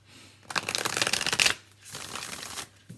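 Close, loud riffle shuffle of a Modern Love Tarot deck, one burst lasting about a second, then a softer second riffle, with no talking.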